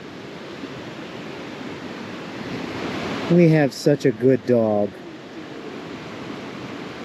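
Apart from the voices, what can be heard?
river water flowing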